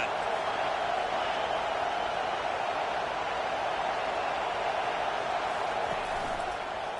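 A dense, steady roar from a college football stadium crowd on second down, loud and continuous with no distinct breaks, like a wall of noise filling the space.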